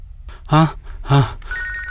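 A telephone rings twice in a Telugu film scene, with two loud, evenly spaced bell bursts and a brief tonal trail after them. A low background hum sits underneath.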